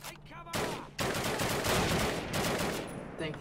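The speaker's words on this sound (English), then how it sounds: "Getting shot from everywhere." Dense, loud gunfire from the World War II shooter Call of Duty 1, with sustained automatic bursts and overlapping shots filling nearly the whole stretch after a brief quieter opening.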